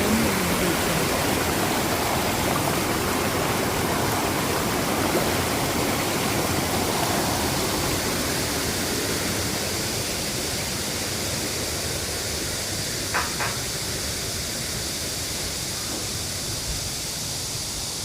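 A mountain stream on a trail at Palgongsan Sutaegol rushes in a steady, broadband wash of flowing water that holds evenly throughout, close and fairly loud.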